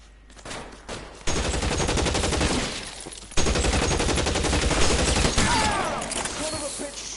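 Rapid gunfire in the L.A. Noire video game, sustained bursts of dense shots in two long loud volleys with a brief pause between, fading into quieter rumble with some background voice.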